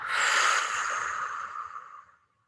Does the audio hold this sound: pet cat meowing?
no